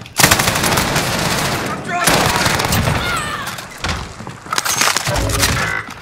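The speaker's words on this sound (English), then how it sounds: "Receiving hostile fire." Heavy automatic gunfire in Call of Duty Warzone, loud sustained bursts with brief pauses, close and dense, with game voices and effects layered in.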